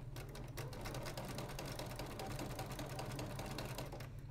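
A sewing machine stitches a quilt seam with a quiet, steady, fast mechanical whir and ticking that runs evenly from start to finish.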